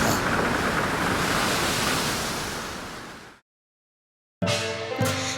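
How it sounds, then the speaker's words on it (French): Storybook scene of wind and sea waves: a broad, steady roar of surf and gusting wind that swells loud, slowly fades away, drops into a second of silence, then gives way to other sounds. "Dans le bruit du vent, des vagues, le navire disparut bientôt à l'horizon"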